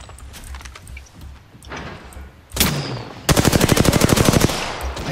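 Gunfire from the Triple Take sniper rifle in the shooter game Apex Legends: a loud sharp shot, followed by a dense rapid burst of close automatic fire.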